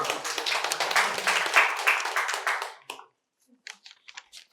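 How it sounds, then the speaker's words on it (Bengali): An audience gives a burst of brisk clapping for a quiz winner that fades out after a few seconds, followed by a few scattered claps. "অভিজ্ঞের জন্য আবার জোরে হাততালি হয়ে যাক।"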